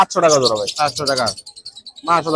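Caged birds at the Mirpur 1 bird market in Bangladesh, including Java sparrows, chirp and tweet in quick high bursts nearby, with a few louder, harsher calls mixed in.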